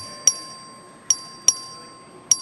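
A clerk's bell rung for a record vote in a legislative chamber gives four sharp, ringing dings at uneven intervals, each decaying quickly, clear and fairly close with no talk over it.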